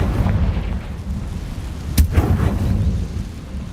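Blasting spell explosions in a wizard video game: a sharp loud burst near the middle over a constant low rumbling roar, with a softer thud soon after.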